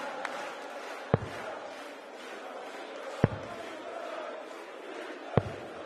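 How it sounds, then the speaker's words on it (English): A darts crowd at a European Tour event cheers and chants in a carnival-like arena, a continuous roar of many voices punctuated by three sharp loud claps or bangs spaced a couple of seconds apart. "Crowd rising to the occasion."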